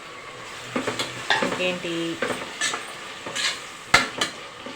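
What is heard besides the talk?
tomatoes frying with masala while stirring, for egg biryani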